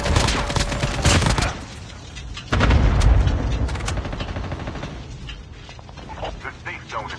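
Gunfire in a battle royale video game, with bursts of rapid shots and heavier booming blasts, loud and close at first, then scattered and more distant shots mixed with game sounds.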